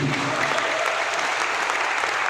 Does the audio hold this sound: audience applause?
yes